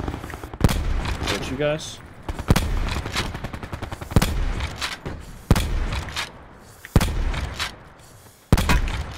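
Bursts of pirate gunfire in the video game Sea of Thieves crack sharply at irregular intervals, several loud close shots over a few seconds, with someone talking between them.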